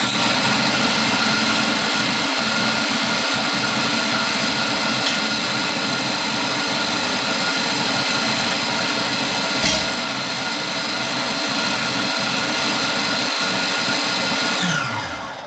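Food processor grinding roast beet falafel mix, a steady high-pitched motor whine running loud and continuous for about fifteen seconds before slowing at the end.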